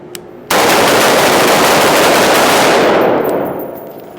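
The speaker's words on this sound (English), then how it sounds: "that's shooting on the move" Loud, dense rapid gunfire from an AR-15 rifle fired while shooting on the move, beginning abruptly and continuing as a sustained roar for about three seconds before tapering off.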